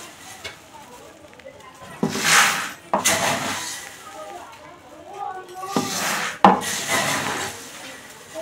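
Puffed rice (muri) poured into a tin gives two rushing, rattling bursts a few seconds apart over quiet room noise.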